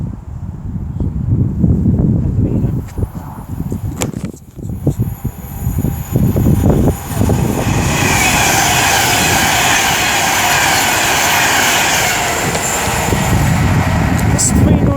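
A Class 390 electric train bound for London Euston passes, building into a loud sustained rushing roar that fills the second half, with people talking over the start.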